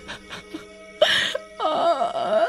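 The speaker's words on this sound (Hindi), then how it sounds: "उस औरत के रोने की आवाजें आने लगती हैं।" A woman's drawn-out wailing and moaning cries, eerie and uneven, rise in separate bursts with short gaps of quiet between them.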